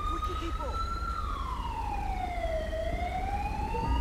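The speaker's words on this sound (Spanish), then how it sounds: "ya acaba de llegar ahí la ambulancia del SAMUR" A SAMUR ambulance siren in GTA 5 wails in a slow rising and falling sweep as the vehicle arrives, fairly close and steady over low background rumble.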